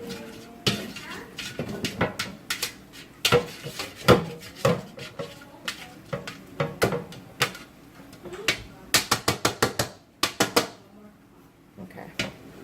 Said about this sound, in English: Gonna butter it up.